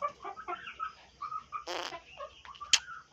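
A black hen clucks while laying an egg, giving soft scattered clucks with a couple of sharper squawks toward the end. The calls come from close by in a quiet farmyard.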